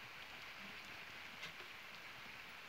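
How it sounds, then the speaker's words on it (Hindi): Heavy rain pours steadily in the mountains, a dense, even hiss of drops with no pauses across the short stretch. "बारिश झपाझप लग रखी है।"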